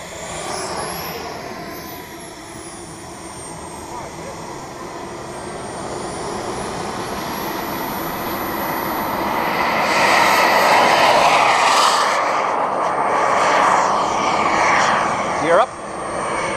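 A Skymaster F-4 Phantom 1/7 scale turbine jet model flying overhead, a steady whining turbine roar that swells louder as it passes, with a brief bump near the end.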